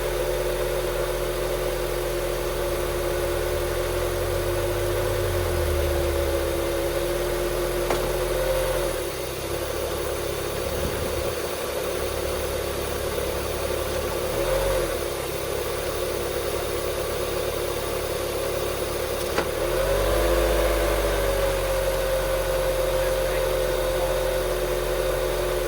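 A high-mileage 2003 Honda CR-V engine runs steadily in gear, a continuous close mid-pitched idle hum with slight load changes and brief dips over about twenty-five seconds, no voices.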